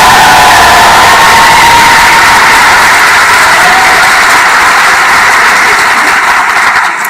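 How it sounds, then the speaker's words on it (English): At a medical school white coat ceremony for an incoming class, a large crowd applauds and cheers loudly and continuously, with whoops rising above a dense wash of clapping. "Let's give them a round of applause."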